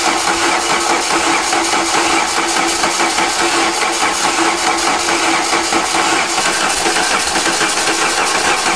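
A VW diesel engine is cranked on the starter to prime its fuel system after a head replacement, making a loud, continuous, rapidly pulsing churn that holds steady throughout without catching.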